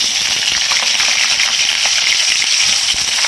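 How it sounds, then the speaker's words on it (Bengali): Potatoes fry in hot oil in a kadai, giving a steady close sizzle and hiss that holds at an even level throughout, with no voices over it. "আমি আলুগুলো ভেজে নিচ্ছি"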